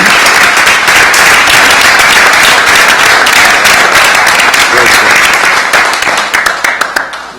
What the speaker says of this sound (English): I think we ought to give Jan a round of applause for what she's